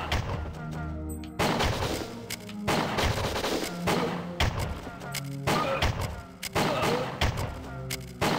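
Repeated gunfire in the N64 stealth-shooter Winback as guards are shot during an any% run, with sharp shots and bursts hitting at intervals over layered game music and effects.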